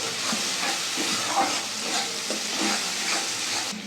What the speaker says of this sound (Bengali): আমি মশলাটা ভালো করে কষিয়ে নেব।